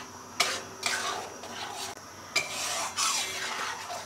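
A spoon stirs homemade amla hair oil in a pot over a low flame, making soft scraping rubs with a few sharper clinks against the pot, close and quiet, with no talking.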